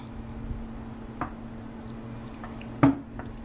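Sloppy joe mixture is stirred in a pan: faint, soft squishing and a couple of brief wet clicks over a quiet background hum.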